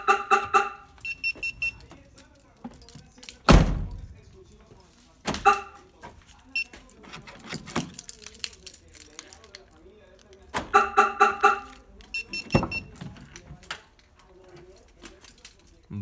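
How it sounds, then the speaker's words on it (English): A Viper remote start alarm on a 2003-2007 Silverado locks and then unlocks the truck doors with bursts of electronic chirps and solid lock clunks, while someone talks between them. "Now with the remote start, push lock, and it will lock the doors. Then you hit unlock, and it will unlock the doors."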